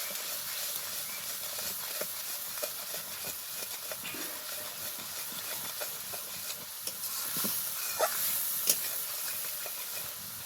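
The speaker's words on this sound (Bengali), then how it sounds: "এবার সমস্ত মশলার সাথে সবকিছু খুব ভালোভাবে কষাতে হবে।" Spices, turmeric, salt and vegetables sautéed in oil in a pan for a vegetarian potato, pointed gourd and paneer curry, giving a steady soft sizzle with scraping stirs and occasional sharper crackles, close and continuous without talk.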